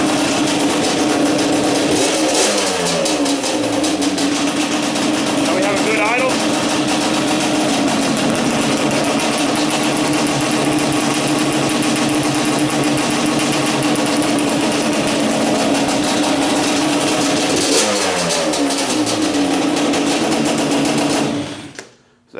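A Yamaha Banshee ATV engine runs at a steady, loud idle, a continuous buzzing two-stroke drone with occasional brief revs, then cuts off abruptly at the end.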